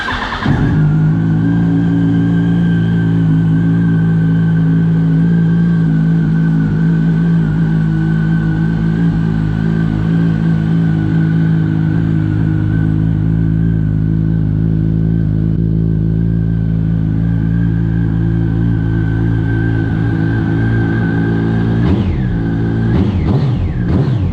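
A 2004 Yamaha R1 motorcycle engine with an aftermarket Micron exhaust runs loud and close, a steady low rumble with a slight rev toward the end.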